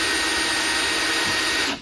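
A Ridgid power drill runs at high speed with a loud, steady whine and buzz, cutting off abruptly at the very end, close up with no talking.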